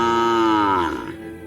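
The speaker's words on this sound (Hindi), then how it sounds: "वो फिर से रंभाने लगती है" A cow on a farm moos loudly at night, one long drawn-out bellow that slowly drops in pitch and trails off near the end, heard close and alone.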